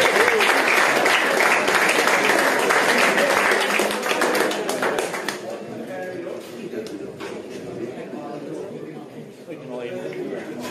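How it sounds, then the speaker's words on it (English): Audience applause fills a fight-show weigh-in hall in Cork, loud and dense for the first five seconds, then thinning into scattered claps and crowd shuffle with voices murmuring underneath. "Give him a round of applause."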